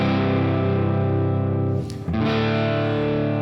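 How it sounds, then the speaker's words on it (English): Heavily distorted electric guitar riff plays loud and sustained, with a brief dip in the middle as the chord changes before the crunchy, saturated tone resumes. "Now you can hear the distortion kicks in."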